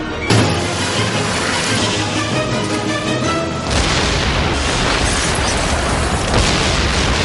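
A bomb explosion from the Batman animated series, starting with a sharp blast followed by a rumbling roar, then a second heavy boom that leaves a loud, crackling wash of debris and noise.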